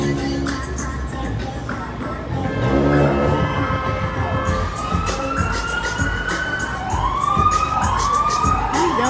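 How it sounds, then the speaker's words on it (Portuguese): An ambulance siren wails along a street, its rising and falling sweeps growing clear and loud over the second half above steady traffic and truck rumble. "Ambulância."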